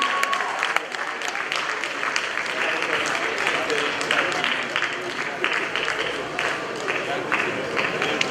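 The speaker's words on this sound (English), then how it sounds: "Shall we congratulate him with another big round of applause?" Sustained applause from a large audience at a media awards ceremony, dense continuous clapping filling the hall at steady loudness with a few cheers mixed in.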